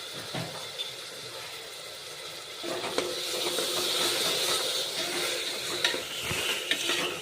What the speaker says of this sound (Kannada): ಈಗ ನೋಡ್ರಿ, ಅಕ್ಕಿ ಮಸ್ತ್ನಾಗೆ ಕುದಿಲಿಕ್ಕತ್ತದಲ್ಲ ಮಸಾಲ